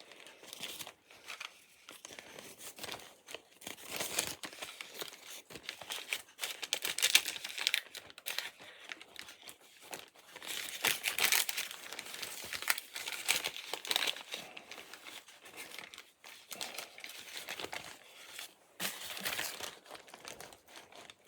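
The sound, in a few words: wax paper being peeled off and crinkled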